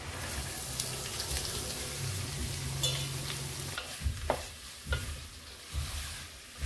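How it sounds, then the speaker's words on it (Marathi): Finely chopped onions fry with bay leaf and garam masala for dhaba-style chickpea masala, giving a steady close sizzle broken by several scraping stirs of a spoon in the pan. "आपण हे बारीक कांदे चिरून घेतले आहेत ते यात घालूया।"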